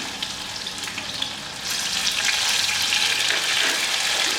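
Tomatoes dropped into hot oil with sautéed onions and garlic for a tamarind curry: a moderate sizzle that jumps to a louder, fuller hiss halfway through and holds steady, close with no talking.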